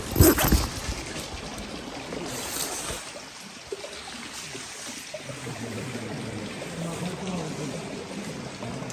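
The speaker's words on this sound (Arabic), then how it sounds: "تصبح على صوت المي والعصافير وهيك منظر" Stream water flowing past a campsite in northern Iraq, a soft continuous burble and trickle heard close, with a louder splash near the start.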